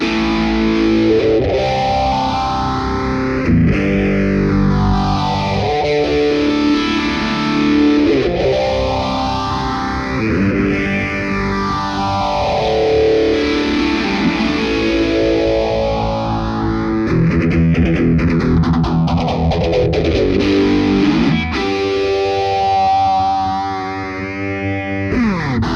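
Distorted electric guitar with a phaser set to its slowest speed sweeping up and down in long, even cycles, played continuously and loud with no voices.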